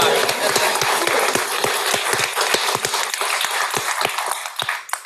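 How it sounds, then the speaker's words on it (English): An audience claps at a guide dog graduation ceremony in Yorktown Heights, New York: dense, lively applause with sharp individual claps standing out near the listener, continuing steadily and tapering slightly at the end. "let's clap one more time"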